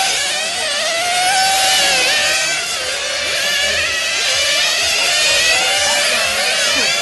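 A 1/10 scale nitro RC car engine going out of tune during an A-main race, its high buzzing whine rising and falling as it passes, loud and continuous.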